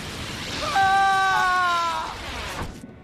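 A person screaming in an audio drama torture scene, a single drawn-out anguished cry of about a second and a half, close and loud over a dim rain-like background hiss.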